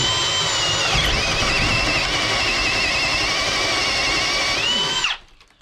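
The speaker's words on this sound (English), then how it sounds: "With the Forstner bit by hand, the bit wanted to wander, so I made a little template, 1/2-inch plywood, drilled a hole through it" A Forstner bit drilling by hand through a 1/2-inch plywood template while building a timber frame shed: a steady, loud, close power-drill whine with a brief pitch dip, lasting about five seconds before the drill stops abruptly.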